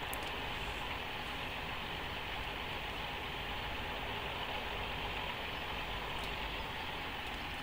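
A tractor engine in Farming Simulator 2013 drones steadily and faintly throughout, a low, even hum with no breaks.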